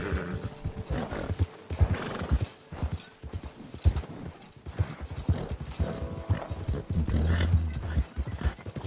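Pfeffi, a horse in Red Dead Redemption 2, gallops uphill with steady, close clip-clop hoofbeats and a whinny, breaking into a rapid drumming of hooves near the end.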